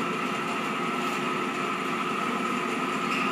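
Electric motor running on an AC-DC converter lab bench, a steady even hum with a faint whine over a low rumble, unchanging for a few seconds, no speech.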